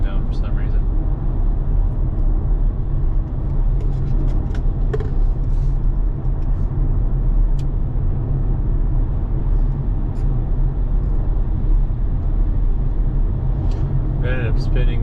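Tesla car running Full Self-Driving v12.3 on a trip to the post office gives a steady, loud interior road and tire rumble for the whole stretch, with a voice speaking over it at times.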